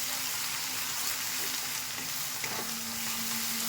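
Cumin-ground spice paste for an egg curry with potato and capsicum fries in a pan with a steady, even sizzle, close and continuous, with faint stirring taps.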